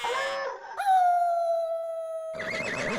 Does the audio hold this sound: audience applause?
no